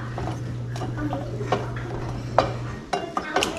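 Béarnaise sauce being stirred in a pan, with a utensil scraping and tapping against metal in irregular close strokes over a low steady hum that drops out near the end.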